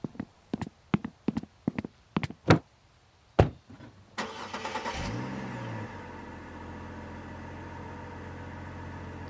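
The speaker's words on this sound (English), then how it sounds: "Ed, climb into your truck and come out when I tell you" A truck engine cranks over and catches after a run of sharp knocks, then settles into a steady low idle that carries on to the end without speech.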